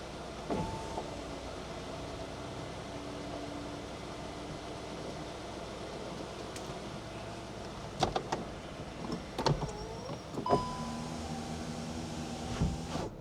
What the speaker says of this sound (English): Now, timing for opening and closing of the roof.